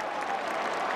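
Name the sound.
Yale football crowd cheering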